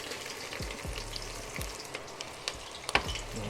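Red onions sautéing in hot oil for jollof rice, a steady close sizzle and crackle with a few sharper pops and stirring scrapes, no talking.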